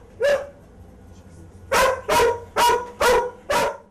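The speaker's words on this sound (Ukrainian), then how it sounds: "Тільки дивіться, зараз лаятиме цей пес" A raccoon dog barks once, pauses, then lets out five quick sharp barks in a steady rhythm, close and loud.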